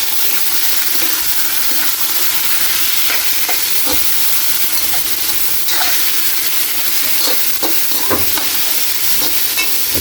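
Pork sizzling loudly in a hot pan, a constant dense hiss and crackle broken by scrapes and knocks as it is stirred around.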